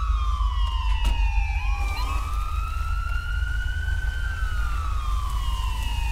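Police car sirens in Grand Theft Auto V with the LSPDFR police mod, wailing and sweeping in pitch over a low rumbling background, steady and moderately loud, with no voices.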